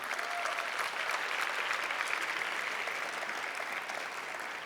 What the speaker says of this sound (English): give a round of applause for those stories that have brought you where you're at today